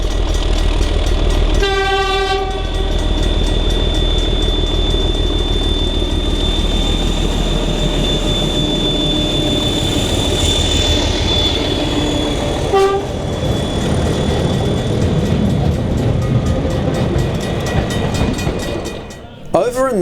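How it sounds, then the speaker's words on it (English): A 1951-built DE511 diesel locomotive hauls a 1950s-60s goods train at a heritage railway, its engine droning loudly and steadily throughout, with two horn blasts early and midway and a voice briefly heard near the end. "(1951) built DE511 is also running a 50s-60s goods train."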